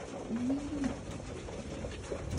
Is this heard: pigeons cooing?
yes